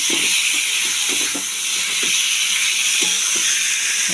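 Spice paste fries in hot oil in a pan for a chana dal dhoka dish, giving a loud, steady sizzle and hiss. Faint stirring taps and scrapes recur throughout.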